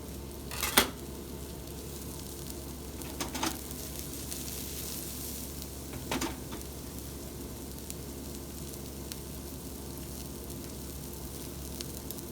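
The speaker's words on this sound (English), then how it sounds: "Garlic goes in the pan. And immediately I'm adding the mushrooms." Garlic and mushrooms frying in a pan, a steady loud sizzle with a few sharp utensil clinks against the pan, close up with no voices.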